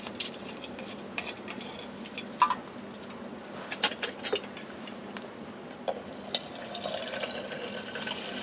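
Water pours and trickles into a canteen outdoors, with splashing, dripping and small clinks of the container; the flow grows fuller and steadier toward the end, heard close with no talking.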